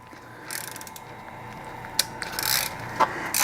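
Clicking ratchet and metallic turning noises as the plug of an OPW EDGE double wall spill container is tightened back down, close and moderately loud with a few sharper clicks.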